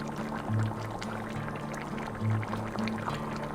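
Tamarind water pouring into mutton curry gravy for an Anglo-Indian railway-style curry, a soft continuous liquid splash with a couple of fuller gurgling surges, alone with no talk.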